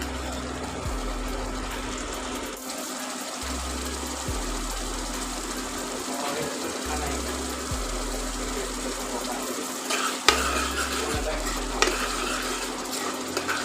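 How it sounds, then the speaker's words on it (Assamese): Black chickpea curry gravy simmering and sizzling in oil in a pan, a steady broadband hiss with occasional stirring and utensil clinks, close and alone without talk. "এইখিনি খুব ধুনীয়াকৈ সিজিবলৈ দিম যেতিয়ালৈকে এইখিনি ইয়াৰ পৰা তেল বিৰিঙি নাযায়"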